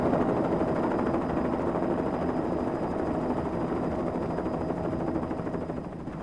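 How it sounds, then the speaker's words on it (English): A helicopter landing in a parking lot gives off a steady, loud, broadband rotor and engine roar that fades slightly toward the end, with no voices over it. "Is that a helicopter right here? It's landing in the parking lot."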